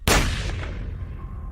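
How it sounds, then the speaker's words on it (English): A single loud gunshot cracks out sharply at the start, then its broad roar and low rumble decay and echo across the rest of the moment with no voices. "they heard a gunshot"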